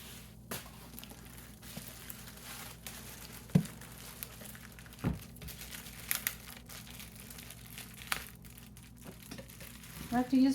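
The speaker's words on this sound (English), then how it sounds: "I have to use the scissors all the way through." Plastic food-container packaging crinkles and rustles as it is cut open with scissors, soft close handling with scattered sharp snips and crackles over a quiet room.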